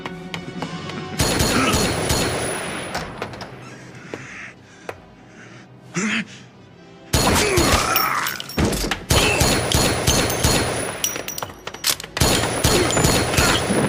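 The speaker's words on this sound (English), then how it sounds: "Where did that gunshot come from?" Gunfire in a video game, with loud bursts of rapid shots separated by quieter stretches and a few isolated sharp reports, close and dominant throughout.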